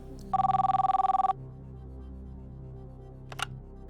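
A telephone rings in one short burst of rapid trilling bell tones, then stops, leaving quiet room noise and a faint click near the end, on a TV quiz show set.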